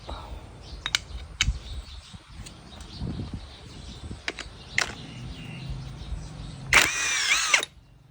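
Power tool removing two size 8 bolts on a Honda Wave 110i motorcycle, with scattered clicks and taps of handling, then one loud close whirring burst of about a second near the end.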